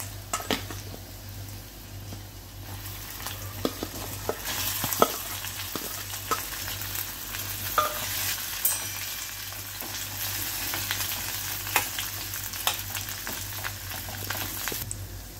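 Boiled, chopped medium potatoes fry in a pan with a steady close sizzle, while a utensil scrapes and stirs, giving scattered clinks and taps.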